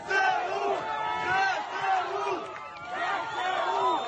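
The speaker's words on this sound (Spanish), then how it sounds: "los soldados ucranianos entraron en la Plaza de la Libertad de Jersón en medio de aplausos" A crowd in Freedom Square in Kherson cheering and chanting as Ukrainian soldiers arrive, loud massed voices rising and falling in repeated waves of shouting, close and continuous throughout.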